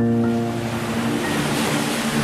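Ocean waves wash onto a shore at high tide as the dark deepens, a loud, continuous surging roar of surf with wind mixed in and a low steady hum beneath, no voices.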